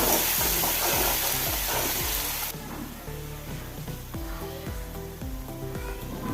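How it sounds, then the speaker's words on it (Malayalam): Rajma (kidney bean) curry being stirred in a frying pan, with a spoon scraping and knocking rhythmically against the pan over a soft sizzle, fairly close and moderate in level, no voices. "ഒന്ന് ഇളക്കി കൊടുക്കാം"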